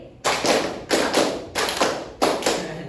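Four sharp bursts of group hand clapping in a classroom clapping game, landing in a steady beat of two pairs, loud and close with no talking.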